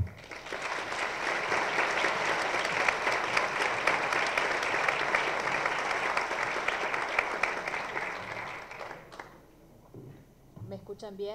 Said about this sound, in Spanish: Le solicito un aplauso.